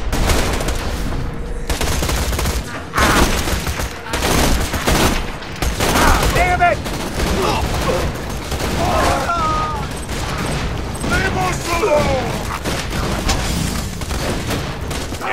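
Rapid gunfire in the PC game Borderlands 2, sustained bursts of automatic shots with brief pauses and chirpy game effects, loud and dense throughout as players talk over it.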